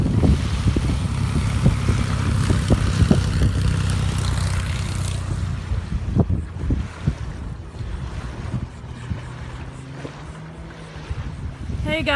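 Banner-towing propeller airplane over a beach, its steady engine drone mixed with wind and surf, fading somewhat after the first few seconds while low rumble continues.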